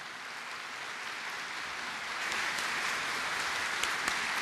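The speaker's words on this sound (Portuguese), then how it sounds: "Vamos aplaudir Humberto, Fábio." Audience applause at a book launch, a steady wash of many hands clapping that swells louder midway and carries on for several seconds without speech.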